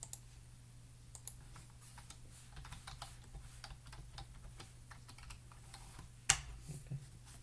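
Soft clicking keystrokes on a computer keyboard as a password is entered, an irregular run of quiet taps with a sharper key press near the end, close and alone in a quiet room.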